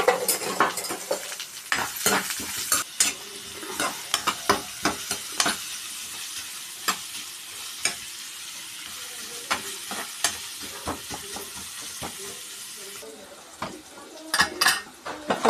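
Two large onions, sliced lengthwise, sizzle in a hot pan while a metal spoon scrapes and stirs them in frequent quick strokes, the frying hiss steady and close underneath.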